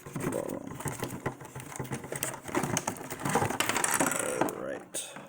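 Small screws come out of a 1:24 scale DCM 336 RC excavator toy, giving close, repeated light metallic clicks, ticks and scrapes in an irregular run.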